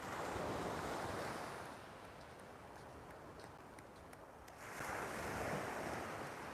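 Steady surf washes onto a broad beach at Hua Hin, Thailand, a continuous roar of breaking waves with wind buffeting the microphone, swelling louder at the start and again near the end.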